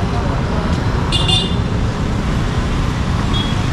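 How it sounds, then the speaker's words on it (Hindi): Busy road traffic at Gaushala Chowk in Kathmandu, a steady dense rumble of engines with a brief horn toot partway through, close and continuous, with faint voices around. "ट्रैफिक का जो सिलसिला है दोस्तों वो काफ़ी भीड़ भाड़ वाला लग रहा है"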